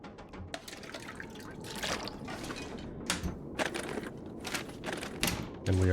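Water being collected in The Long Dark survival game, heard as a run of close, irregular dripping and splashing taps with short watery bursts, no talk over it.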